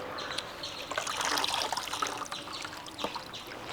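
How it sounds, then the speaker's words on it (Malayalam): Old newspaper being soaked in water, a close, faint trickling and dribbling of liquid with small splashes, steady and alone without talk. "ഇത് ഒന്ന് വെള്ളത്തിലൊന്ന് കുതിർക്കുക."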